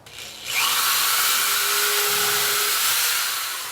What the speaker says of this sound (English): I'm going to use the drill to cut the first hole so that the wood won't split.